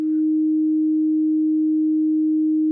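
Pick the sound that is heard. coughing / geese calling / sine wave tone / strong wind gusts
sine wave tone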